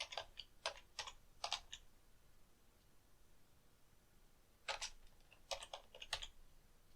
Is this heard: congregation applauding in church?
no